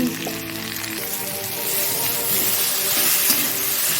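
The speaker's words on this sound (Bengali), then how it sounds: "চাপা দিয়ে দিয়ে ভেজে নিই" Salt and turmeric frying in a hot pan, a steady close sizzle with faint stirring scrapes and brief clinks at the start, loudening slightly partway through; no talking.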